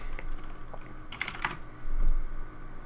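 A computer keyboard is typed on while setting up a Linux disk partition: a few quick keystrokes, then a short flurry of louder clicks and an enter press, over faint low background hum.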